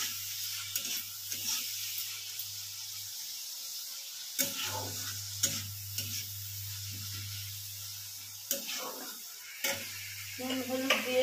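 Chopped onion sizzling in hot oil left over from fried chicken, with repeated scraping stirs and occasional clinks of a spatula against the pan, close and steady.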